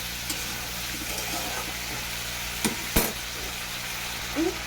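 Soft stirring and scraping in a pan of frying potatoes and fish curry with flat beans after salt goes in, a steady low sizzle with a couple of sharper utensil knocks, close up and without talk.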